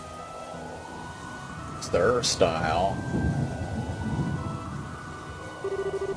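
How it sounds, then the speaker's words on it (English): Steady rain with rumbles of thunder in the video game The Legend of Heroes: Trails in the Sky the 3rd, a constant wet hiss under a short spoken exchange, with a soft tonal chime near the end. "You didn't have to come out here in the rain."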